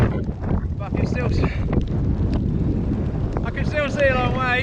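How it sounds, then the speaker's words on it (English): Strong wind buffets the microphone on a mountain summit in rain, a steady roaring rush with gusts, while a person speaks over it throughout. "That wind and rain."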